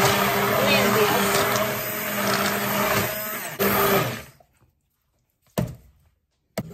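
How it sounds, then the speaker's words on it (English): An immersion blender whirs steadily for about four seconds as it purées homemade marinara sauce, loud and near, then cuts off and leaves a couple of soft knocks. "I'm using my immersion blender to go ahead and blend this."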